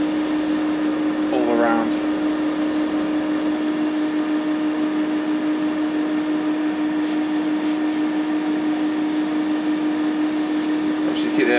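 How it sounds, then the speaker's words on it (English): A steady, airy hiss with a constant compressor tone holds throughout as an airbrush sprays primer onto a 1/48 Messerschmitt Bf 109E plastic model aircraft. A brief voice is heard near the start. "Obviously keep the airbrush moving."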